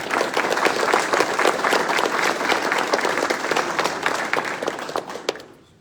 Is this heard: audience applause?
yes